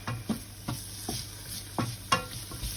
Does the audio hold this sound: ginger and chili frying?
yes